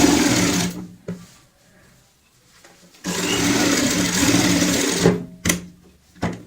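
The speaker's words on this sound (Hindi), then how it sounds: "गैप डालेंगे, फिर पक्का करते हुए सिलाई लगाएंगे।" A sewing machine stitches a pillow cover in fast whirring runs: a long burst, a pause, then another sustained run followed by short stop-start bursts, close and loud.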